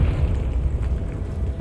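Confringo explosion spell in Hogwarts Legacy, a loud, dense low boom with continuous rumbling that fills the short moment.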